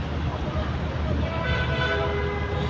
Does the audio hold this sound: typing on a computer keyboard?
no